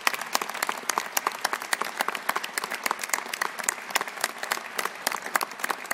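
A ceremony audience applauds municipal employees of Savigny-le-Temple at a 2024 New Year's wishes event, producing dense, steady clapping from many hands with no speech.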